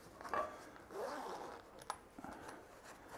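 A zipper on a stiff, unlined waxed canvas pipe pouch is pulled in several close, scratchy rasps of uneven length. No voices are heard.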